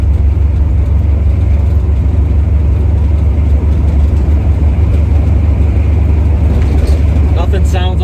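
A 1970 Chevy Nova with a 383 stroker V8 drives in third gear at about 30 mph near 2,000 RPM. Its loud, steady, deep engine drone fills the cabin, with talk over it.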